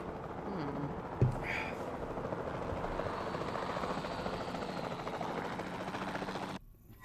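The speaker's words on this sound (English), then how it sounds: "take a capture team helicopter" Helicopter from the capture team in the video game Jurassic World Evolution 2, a steady droning rotor and engine hum held evenly for several seconds, with a brief thump near the start before it cuts off at the end.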